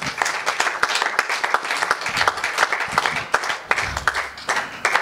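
A church congregation applauding the Lord, steady dense clapping from many hands throughout, loud and close, with no talk above it.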